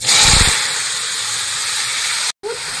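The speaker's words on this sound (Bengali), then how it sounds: "এবার লাউগুলো ঢেলে দেবো" Bottle gourd pieces hit a hot pan with capsicum and green chilli for a prawn dish, opening with a loud burst of sizzling that settles into a strong steady hiss of steam, briefly cut off near the end.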